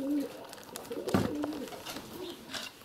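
Pigeons coo softly in a village dovecote, with a few low throaty calls close by over faint background noise.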